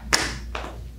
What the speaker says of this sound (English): Here we go, side step, clap.